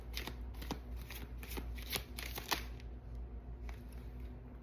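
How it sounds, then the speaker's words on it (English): Tarot cards being shuffled at a tarot reading, a run of quick riffling and flicking bursts, moderately close and steady, with no talking over it. "Let me pull a card for King Charles."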